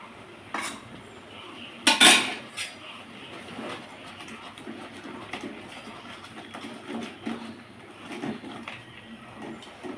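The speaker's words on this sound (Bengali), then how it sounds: "এবার আমি এটা হাতা দিয়ে যতটা পরিমাণে ঘুটে দেওয়া যায় ততটা ঘুটে নেব" A metal ladle clanks and scrapes inside a pot while mashing cooked leafy greens (shak) with garlic and onion, one sharp clatter standing out among softer stirring and knocking sounds.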